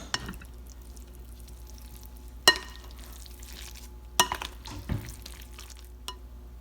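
Cod cake ingredients mixed in a bowl, giving soft wet squelching and stirring, broken by a few sharp utensil knocks against the bowl, close and moderately loud.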